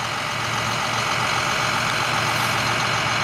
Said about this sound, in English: We've got a tow truck here.